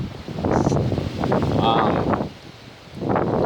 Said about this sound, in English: Like the sound I'm hearing is the wind bouncing off of all this shit.